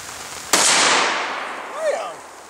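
A single AR-15 rifle shot fired outdoors at targets: one sharp, loud crack followed by a long rolling echo that fades over about two seconds, with a brief voice near the end.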